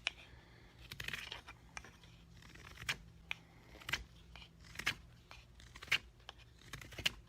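A knife carves a small piece of wood into a crochet hook, making short, crisp scraping cuts about once a second, each sharp and close against a quiet background.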